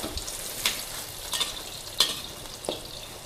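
An omelette fries in hot oil with a steady sizzle, broken by four sharp scraping or spatula knocks spaced about every half second to second, close and clear, with no talking.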